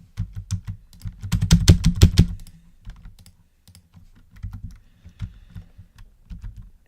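Quick bursts of clicky keystrokes on a computer keyboard, close and crisp, with a dense flurry early on and then sparser, uneven taps with short pauses.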